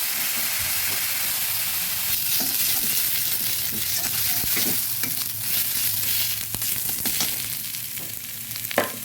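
Onions frying in a pan for a potato and prawn curry, a steady close sizzle and hiss with scattered crackles and occasional stirring scrapes, no voices.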